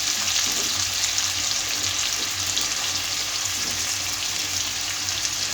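Onions, coriander, curry leaves and green chillies fry in a hot pan for an egg curry, giving a steady, dense sizzle with faint stirring scrapes throughout and no talking.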